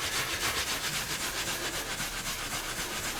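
A waxy weatherproofing finish is rubbed into a leather journal cover with steady back-and-forth strokes, making a continuous close, rhythmic rasping friction sound with no pauses or talking.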